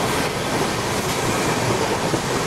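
The Coromandel Superfast Express runs at high speed in PC Train Simulator, a continuous roar of wheels on rail with light rhythmic clatter and no pause, close and with no voices.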